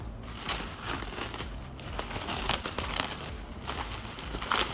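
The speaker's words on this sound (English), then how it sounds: "Oh God, unwrapping things off camera, not good" A shrink-wrapped cold air intake filter for a 2016-2024 Camaro SS being unwrapped, with steady close crinkling and rustling of plastic film and no talking.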